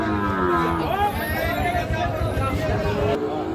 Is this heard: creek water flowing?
no